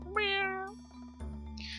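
A cartoon cat in the Stardew Valley farming game gives one clear, rising-then-falling meow over steady background game music, followed by a brief brighter chime.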